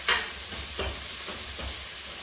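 Oil sizzles and crackles in a pan with a steady hiss, punctuated by a few sharp spattering pops.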